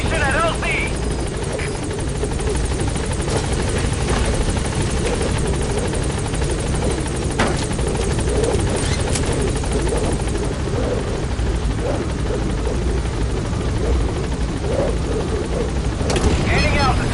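The Pequod helicopter from a video game hovers at a landing zone, its loud, steady rotor roar and engine drone running continuously and close, with faint radio-style talk mixed underneath.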